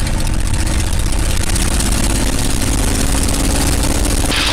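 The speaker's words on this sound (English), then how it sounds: "Go ahead and advance the engine RPM to 2300 with the throttle." A P-51 Mustang's piston engine runs up to 2300 RPM under throttle, a loud, steady, close drone with a low throbbing rumble that holds even throughout, with no voices over it.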